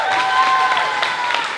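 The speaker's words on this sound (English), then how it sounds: "Can we get a big round of applause for our engineers?" A short burst of crowd applause for student engineers at a high school engineering and music showcase, close and steady with a sustained musical tone underneath.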